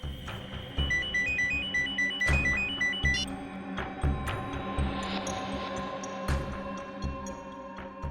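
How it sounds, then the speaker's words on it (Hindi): A mobile phone rings with a repeating electronic melody in a tense domestic TV drama scene, the tone pattern steady and clear over a low background music bed with no talk. "उसी का फोन है।"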